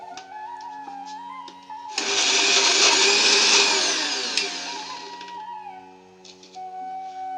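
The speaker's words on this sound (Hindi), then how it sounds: "हमारा मिक्सी जो है इतना आवाज़ नहीं कर रहा है" A kitchen mixer grinder whirs loudly for a few seconds blending a paste, then winds down, with soft music playing underneath.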